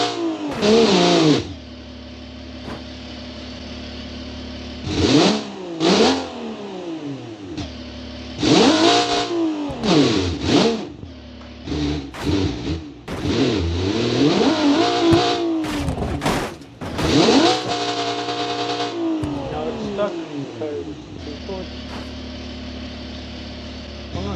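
A car engine in the BeamNG driving game revving up through seven gears of a manual gearbox, each climb in pitch cut by a pause at the shift, loud and close with few other sounds.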